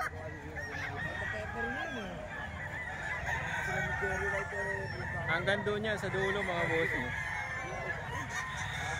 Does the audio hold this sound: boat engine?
no